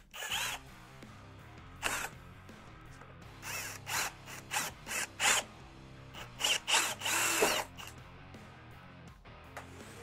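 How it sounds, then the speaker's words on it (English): Power drill boring through the plastic airbox of a Honda CRF300L Rally motorcycle, heard as a series of short, loud, near whining bursts of varying length with brief pauses between, no talking. "So I'm gonna drill that out and then clean up the edges."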